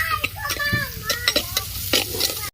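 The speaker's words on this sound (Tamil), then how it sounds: "வெங்காயம் ஃபுல்லாக வதங்கணும்." Onions sautéing in a clay pot for prawn curry, steady sizzle with frequent scraping stir strokes and light clinks against the pot, close by, with a brief faint voice in the background.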